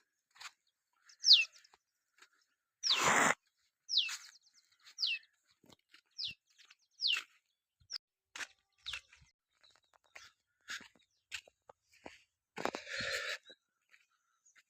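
Scattered bird chirps and tweets on a village farm in the morning, with peacocks among the birds, over several seconds, with a few louder crunchy noises mixed in; sparse, irregular calls without talking.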